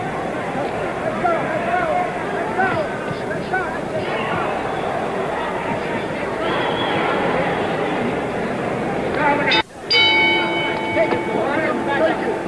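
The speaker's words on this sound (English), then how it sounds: "The bell for round 9." At the San Diego Sports Arena, during the Muhammad Ali vs Ken Norton heavyweight fight, the ring bell clangs once near the end to signal round nine and rings on over a steady murmur from the arena crowd.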